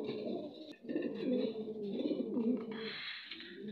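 Black Lahori pigeons at a pigeon farm coo close by in repeated soft, throaty rolling phrases, with a few faint rustles and flutters between calls.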